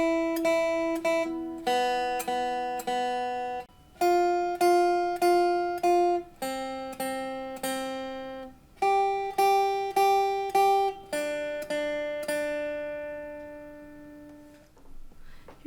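A beginner guitar exercise steps back and forth between the first and second strings in even, steady picked notes, small groups at changing pitches, each note ringing cleanly and close, with no voice over it.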